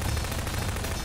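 A brief, dense burst of video game gunfire in Garry's Mod Prop Hunt, loud rattling shots packed closely together with no talking.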